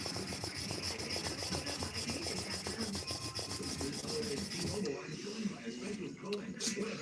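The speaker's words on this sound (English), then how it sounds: "Hand sanding knives." Knife blades being hand sanded in a forging workshop, a steady rapid back-and-forth rubbing scrape repeating close up for most of the stretch, then thinning out near the end.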